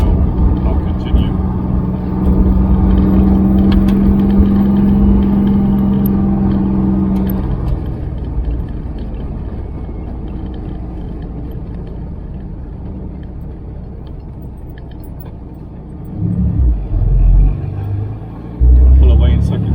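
MGB fitted with a Camaro V6 conversion and a T5 transmission, driving on a gravel road: a steady low engine drone and road rumble from inside the car, a sustained tone early on, then bumps and louder surges near the end.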